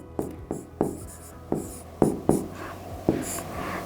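Chalk or marker writing a word on a board during a permutations lesson: a series of short, sharp taps and scratchy strokes in an irregular rhythm, close and fairly quiet, with no talk.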